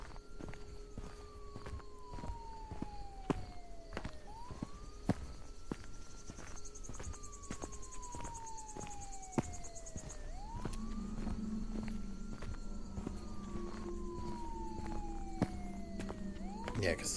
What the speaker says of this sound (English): Yeah, because the siren's getting louder.